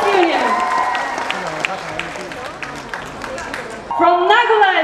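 Audience applause at an institute foundation day after a medical students' union performance, clapping under a loud announcer's voice and background music, then talk takes over near the end.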